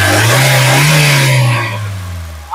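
A 2013 Honda City S manual petrol engine revs hard and close, a loud sustained rise that eases off near the end, with no talk over it.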